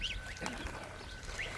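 Muscovy ducks on a farm call with soft, breathy quacks and hisses, scattered across a short stretch with no talking.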